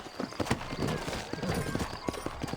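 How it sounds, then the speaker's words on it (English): Horse hooves clip-clop in steady, close strikes in the video game Red Dead Redemption, with a brief neigh mixed into the footfalls. "You ain't gonna find sturdier horses than these in all of New Ulster."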